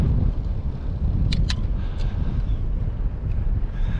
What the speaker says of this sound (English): it's really windy, so that's really bothering